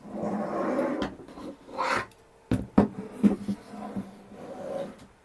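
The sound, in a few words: unscrewing the X-beam of a Sovol SV08 3D printer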